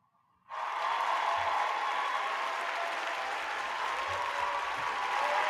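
A studio audience bursts into a warm round of applause for guest Christophe Laudamiel on a live show, steady dense clapping starting abruptly after a brief quiet moment and continuing loud and full.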